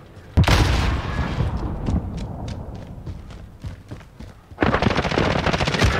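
Heavy automatic gunfire in Call of Duty Warzone opens with a loud burst, thins into scattered single shots and returns in a dense sustained volley, all close and loud.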